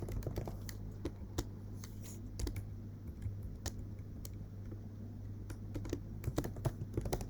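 Rapid keystrokes on a computer keyboard while JavaScript code is typed, an uneven run of close, crisp clicks over a low steady hum, with no talking.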